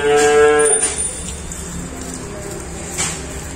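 A cow in a cattle pen gives one loud, close moo at the start, then low barn noise and faint rustling follow.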